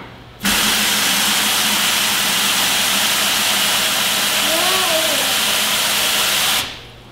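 Steady, loud hissing spray of water rinsing a 2019 Camaro SS runs continuously for several seconds, starting abruptly and cutting off near the end.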